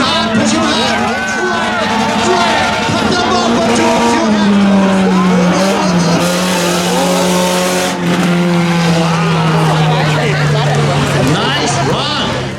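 A street legal car makes a spectator drag racing run at Beech Ridge, its engine droning loud and close for the whole stretch, slowly falling in pitch, with tire noise and a commentator talking over it.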